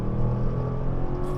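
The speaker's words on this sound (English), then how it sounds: "All right, another 0 to 60 run." A 2002 Firebird Firehawk with an LS1 V8 and T56 manual pulls hard through a 0-60 run, its engine a loud, steady, close roar that holds throughout with no voices.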